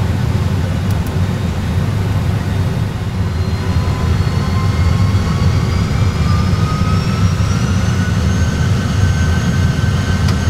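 Airliner jet engines spooling up as thrust is set for the takeoff roll: a loud, continuous roar with a high whine that rises steadily in pitch, heard without talk.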